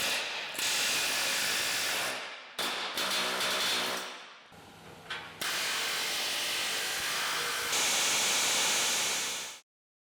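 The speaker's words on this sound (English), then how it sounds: "now that we've got all of our rivets removed" Rivets being removed from a C-10 truck frame with an air tool, a loud continuous rattling, hissing mechanical blast cut by a few short pauses before it stops abruptly near the end.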